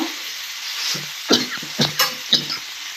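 A spoon scrapes and stirs ingredients sizzling in hot oil in a pan for a fish curry, several distinct close stirring strokes over a steady frying hiss.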